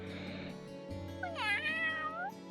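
A cat meows in the Trails of Cold Steel video game, with one long, clear, drawn-out call over a steady game background hum.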